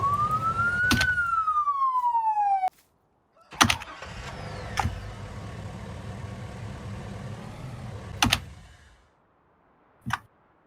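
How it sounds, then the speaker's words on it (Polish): A police car in the farming game Farming Simulator 19 arrives with a wailing siren that cuts off, then car doors slam and an engine idles nearby, ending with a final door thud. Loud and close, with no talking. "policja mi przyjechała"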